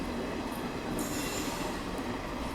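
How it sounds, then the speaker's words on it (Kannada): A goods train rolls past a curved railway station, a steady moderately distant rumble of wagons with faint wheel squeal and clatter running throughout, no voices. "ಅಲ್ಲಿ ಒಂದು ಯಾವುದೋ ಟ್ರೈನ್ ಪಾಸ್ ಆಗ್ತಿದೆ"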